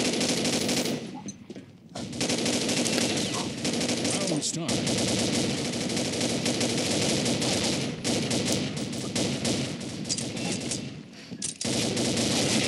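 Combat Arms online shooter gameplay with loud, dense automatic gunfire, bursts of rapid shots running almost without pause and separated by a few brief gaps.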